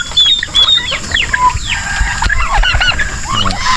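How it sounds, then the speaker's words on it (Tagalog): Large free-range chickens on a small Philippine farm cluck and squawk close by, overlapping calls rising and falling over a busy yard with no one speaking. "So, yun yung mga malalaki na natin manok na naka-free range."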